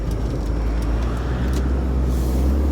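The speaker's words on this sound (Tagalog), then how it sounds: "Look at the big truck." A big truck passing on a road in Japan, a steady loud low engine rumble with broadband road noise throughout and a brief hiss of air brakes near the end, no talk.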